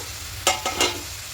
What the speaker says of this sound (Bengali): এবার শাকটা দিয়ে ঢাকা দিয়ে একটু কিছুক্ষণ হতে দেবো।